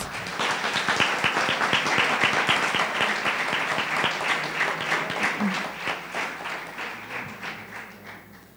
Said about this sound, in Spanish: Un aplauso para todos nuestros ganadores.